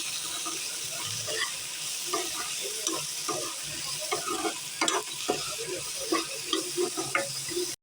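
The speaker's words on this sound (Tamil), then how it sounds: "நான் கசகசாவும் முந்திரி எடுத்து வச்சுருக்கேன் அதை சேர்த்துக்கிறேன் இதை நல்லா வறுத்துக்கலாம்" Poppy seeds and cashews sizzle steadily as they roast in a hot pan while a utensil stirs and scrapes in irregular strokes, close by with no talking.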